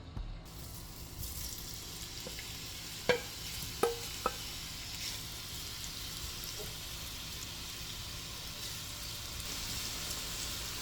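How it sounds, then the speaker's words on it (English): Food fries in about two tablespoons of oil with crushed garlic in a pan, a faint, even sizzle holding steady throughout, broken by a few brief clicks and taps of a utensil early on; no voices. "I'm just going to let it fry on both sides for about 2 minutes."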